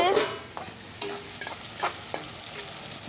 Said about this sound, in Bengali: বড় মাছগুলো ভাজা হয়ে গেছে ছোট মাছটা বসিয়ে দিলাম